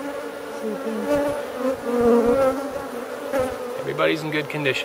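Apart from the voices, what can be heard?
honeybees buzzing during wild hive relocation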